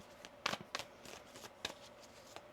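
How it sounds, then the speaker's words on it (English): A deck of tarot cards being shuffled in a quiet room, with several short crisp riffling bursts spread unevenly over a few seconds and soft pauses between them. "One more shuffle."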